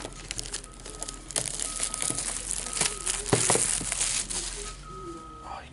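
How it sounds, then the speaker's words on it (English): Cardboard crinkles and tears as a box of 2015 Panini Black Gold football cards is cut open, close and moderately loud with scattered sharp rips and rustling. "Oh, he cut the box."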